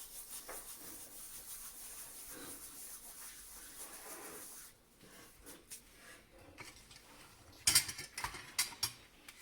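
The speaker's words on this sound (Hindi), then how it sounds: "थोड़ी सी कस्तूरी मेथी डालेंगे क्रश कर कर" Dried kasuri methi (fenugreek leaves) is crushed between the hands over a bowl of flour for suhali dough, giving a dry, close rustling rub that stops partway, followed by a few light clinks.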